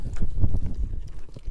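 A horse walks in an arena, its hooves thudding in a muffled, close, steady clip-clop rhythm.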